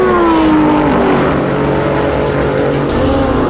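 Supercars, including a McLaren and a Lamborghini, roar flat out in a drag race, one loud, sustained engine howl climbing through the gears with brief shift breaks.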